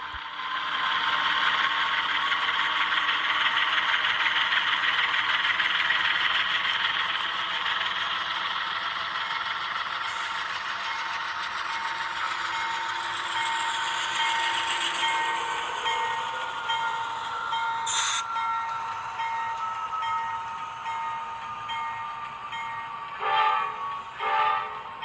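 Model railroad helper locomotives run up to the rear of a loaded coal train, giving a steady loud motor whine and rumble, with a few sharp metallic clanks of coupling near the end.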